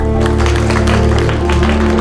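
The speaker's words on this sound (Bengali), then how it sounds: "সবাই জোরে হাততালি দাও।" An audience at a stage game show applauds, the dense clapping and crowd noise running loud and continuous over a steady musical backing.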